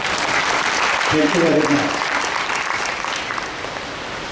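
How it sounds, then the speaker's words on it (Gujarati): Sustained audience applause at a senior citizens' association celebration, a dense steady clatter of many hands filling the room, with a voice speaking briefly over it. "જયશ્રી ભાભીને માટે તાળી પાડો."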